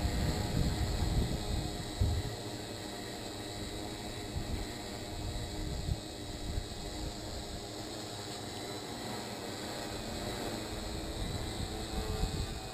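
A small GPS drone hovers and comes down to land outdoors, its faint, continuous whirring whine steady throughout with a couple of brief rustling bumps.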